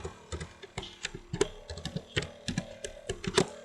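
Keystrokes on a computer keyboard typing a short phrase into a CodeBlocks code editor on a Windows PC, a quick irregular run of about twenty close, crisp clicks with no talking.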